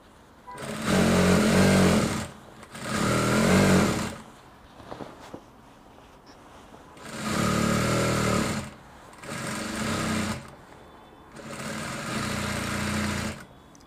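A sewing machine stitches shoulder seams on a kimono-style garment in five separate bursts of rapid mechanical whirring, with quiet pauses between them.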